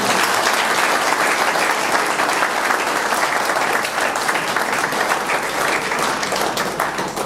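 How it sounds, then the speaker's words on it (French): A crowd in Kinshasa claps loudly and densely without a break for the full stretch, in a continuous wash of applause with no talk over it. "On peut quand même acclamer ça."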